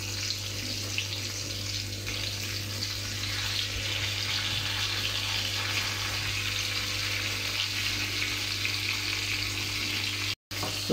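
Halibut fillet frying slowly in a pan, giving a steady, even sizzle that holds at a constant level throughout, with a brief dropout near the end and no voices.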